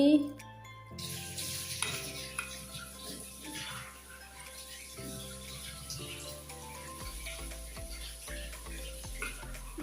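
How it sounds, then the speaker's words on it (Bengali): Palm fruit fritters made with tender green coconut frying in hot oil, a steady close sizzle with occasional clinks and stirring sounds, no voices. "তেল গরম দিয়ে দিছি"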